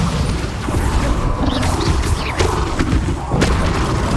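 Booming spell explosions and magical impacts from the Hogwarts Legacy video game, a dense continuous barrage of blasts and crashes with shouted spell names heard throughout.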